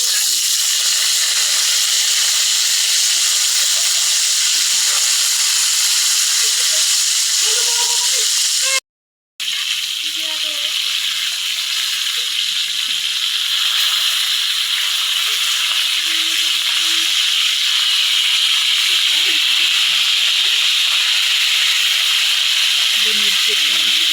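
Fish frying in hot oil for escabeche, a loud steady hiss and crackle sustained close by with a brief cut in the middle, and occasional faint spits and rattles underneath.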